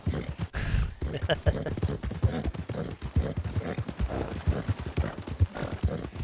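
Horse hooves gallop in a quick, steady rhythm throughout, close and prominent, with voices faintly mixed underneath, from the video game Red Dead Redemption 2.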